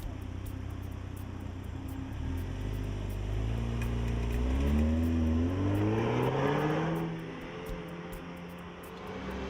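A car engine revs and rises in pitch while driving around a bend, loud and steady with shifting tones, then easing off near the end.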